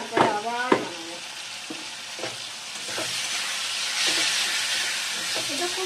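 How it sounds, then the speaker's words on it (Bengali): A spiced mixture with ground coriander and cumin sautés in a pan, giving a loud, steady sizzle and hiss. Clinks and scrapes of stirring sound at the start and recur through it, with faint voices in the background. "এটা খুব ভালো করে কষাতে হবে, নাহলে কিন্তু ভালো লাগবে না।"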